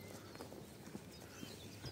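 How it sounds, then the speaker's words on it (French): A horse's hooves clip-clop on a countryside walk near forest and rivers, a few soft, irregular steps at moderate distance with a sharper knock near the end, heard without talking. "On va voir qu'il y a un cheval."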